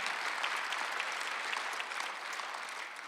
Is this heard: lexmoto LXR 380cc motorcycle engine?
no